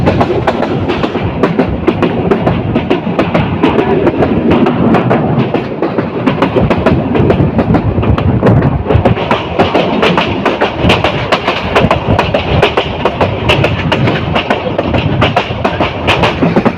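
Kishorganj Express train runs through fields in Bangladesh with a loud, continuous rumble and rapid clickety-clack of wheels over rail joints, heard close from on board, with no talking.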